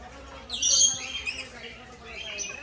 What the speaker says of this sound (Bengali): এই লাভবার্ড